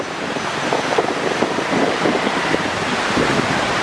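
Shyama river flowing near Harsil in the Himalayas, a steady broadband rush of water with some wind buffeting the microphone, continuous and fairly loud throughout.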